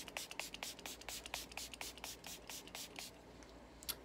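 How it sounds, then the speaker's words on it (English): A rapid series of short, crisp hissing spritzes of matte makeup setting spray, over a dozen quick pumps in a steady rhythm, close up, then quiet. "so I'm gonna use a matte setting spray."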